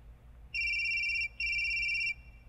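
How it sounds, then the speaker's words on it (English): A 2012 Mazda3's Bluetooth hands-free system sounds its incoming-call notification: two clear, steady electronic tones in a row, each lasting under a second with a short gap between them, over quiet cabin hum with no talking. "When receiving a call, a notification sounds."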